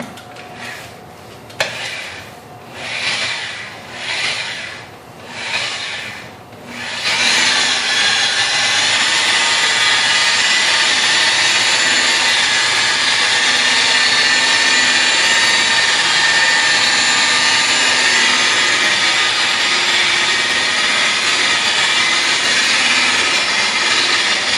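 Polishing buffer with a wool pad, set near 1800 RPM, working compound on a clear-coated car bumper: a few rising and falling passes at first, then a steady loud whirring grind held close for the rest.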